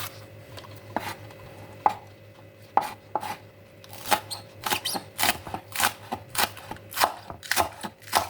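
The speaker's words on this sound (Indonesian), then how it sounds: "Satu batang daun bawang dipotong-potong kecil." A knife chops a stalk of spring onion into small pieces on a board, a run of sharp separate cuts that start sparse and then come quicker and more steady, close and clear with no voices.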